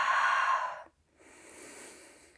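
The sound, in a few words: breathing during a Pilates exercise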